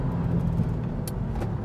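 A Subaru WRX STI engine while driving, a steady low rumble with a faint higher whine, heard from inside the car, with a few brief clicks over the drone.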